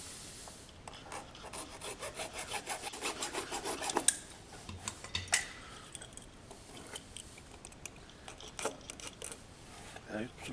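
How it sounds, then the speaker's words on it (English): A hacksaw cuts an angle on the corner of a heavy-duty rubber grass flap for a Hustler mower mount, giving quick rhythmic rasping strokes, close and fairly quiet, with some uneven pauses and scrapes. "Just take your hacksaw and put a little edge on it."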